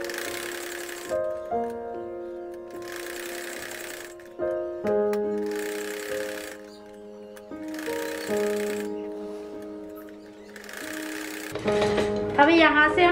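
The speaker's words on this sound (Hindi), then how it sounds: "अब इसकी किनारे किनारे पर इस तरीके से चारों तरफ सिलाई करेंगे" Electric sewing machine stitching around the edges of a door mat with matching thread. It runs in short, repeated bursts, alternating with a person talking.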